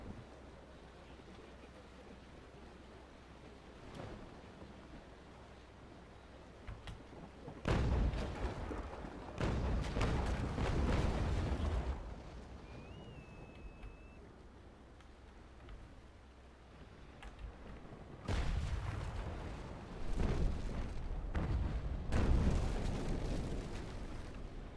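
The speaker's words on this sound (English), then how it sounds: "we'll be able to swing out here and fire off the 5 guns that we have left on this side" Cannon broadsides from a sailing warship in the game Naval Action: two long, booming volleys of rolling gunfire rise out of a quiet bed of wind and sea noise.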